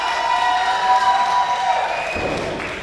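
A live crowd at a WWN Proving Ground wrestling event cheers and shouts loudly, with sustained high-pitched voices that carry on, then ease off slightly toward the end.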